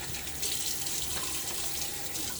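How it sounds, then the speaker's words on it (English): Tepid tap water runs steadily into a bathroom sink while it is splashed onto the face during a wet shave, a continuous close hiss with small shifts in the flow. "I'm throwing a little bit of water on my face"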